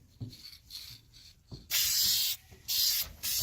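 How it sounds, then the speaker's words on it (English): Spray paint hissing onto car headlights during a cheap DIY retrofit, in short bursts held about eight inches back: a few quieter puffs, then three loud, steady sprays, each lasting about half a second to a second, close to the mic. "We're going to stay a few inches, about 8 inches back when we're spraying."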